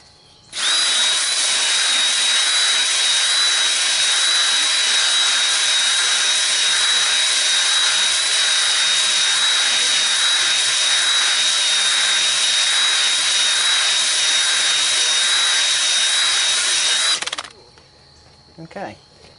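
A drill spins a Flex-Hone brush inside an oiled 7.3 PowerStroke diesel cylinder, starting abruptly into a loud, steady high-pitched whine with a rasping hone texture that holds for about sixteen seconds before cutting off.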